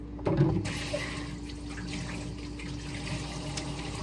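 Hot tap water runs into a sink during handwashing, a steady moderate stream with a brief louder splash near the start, then a continuous low rushing for the rest of the stretch.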